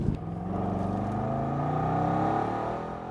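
Supercharged V8 of a Range Rover Sport SVR revving loudly and close, a sustained rising engine roar with dense harmonic growl for about three seconds, no voices.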